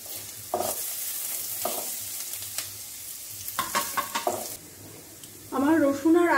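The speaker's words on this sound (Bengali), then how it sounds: "এবার এ দুটোকে আমি একটু ভেজে নেব।" Chopped garlic and ginger fry in a pan with a steady sizzle, broken by close scraping stirs and clatter, then a voice speaks briefly at the end.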